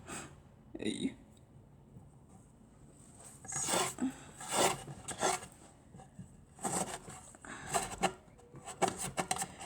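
Crud being scraped out of the corners of a sewing machine, heard as short rasping, rubbing strokes in irregular bursts, close by, with quiet pauses between them.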